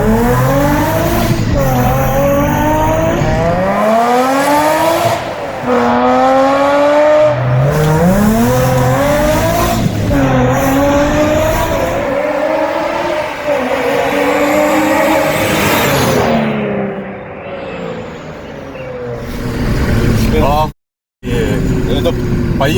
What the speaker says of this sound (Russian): Это поехала тачка сейчас, слушай.